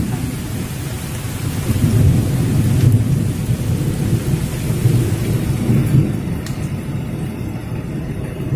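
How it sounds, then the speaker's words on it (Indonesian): Heavy rain pours steadily onto a wet camping tent, a dense close roar with thunder rumbling low underneath throughout, and no voices. "Tendanya basah, diguyur hujan."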